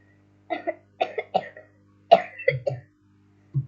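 A man coughs in several short, dry bursts, close to the microphone, with a brief pause before a final cough.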